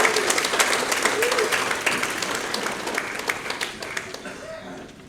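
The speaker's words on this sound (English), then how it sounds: "Another round of applause for Judy, please." Audience clapping at a live music and variety show, a steady round of applause that gradually thins out, with some voices and a brief tonal sound mixed in.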